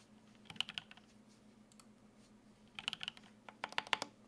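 Typing on a Monstargears Classic TKL mechanical keyboard with a top-mounted plate and GMK Birch keycaps: two short bursts of crisp clacky keystrokes separated by a pause, close and fairly quiet over a low background hum.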